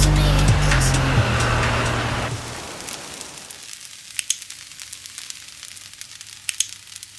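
Food frying in a hot pan, a loud close sizzle that starts strong with faint music underneath, fades away over a few seconds, then leaves scattered small pops and crackles.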